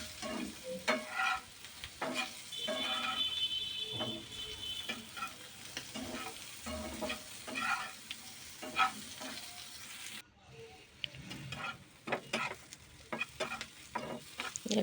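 Frying in a wok in a village kitchen gives a faint background sizzle broken by frequent irregular clatters and scrapes of stirring, with a short quiet gap partway through.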